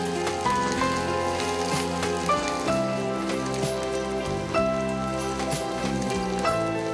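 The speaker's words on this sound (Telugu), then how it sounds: "ఉల్లిగడ్డలు, పచ్చిమిరపకాయలు దోరగా వేయించుకోవాలి కాస్త నూనెలో" Onions and green chillies frying in a little oil, a steady close sizzle and crackle that runs throughout with no talking.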